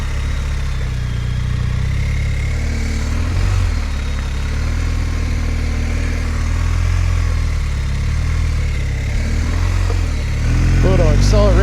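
Motorcycle engine droning at low speed through an offset cone weave on a competition-style practice course, a steady mid-pitched hum rising and easing with throttle, with someone talking over it.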